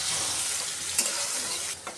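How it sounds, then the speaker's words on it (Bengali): Onion and green chili fry in a pan with a steady bright sizzle, punctuated by a couple of quick stirring scrapes, close up and without talk. "পেঁয়াজ কাঁচামরিচটা হালকা একটু ভেজে নেই"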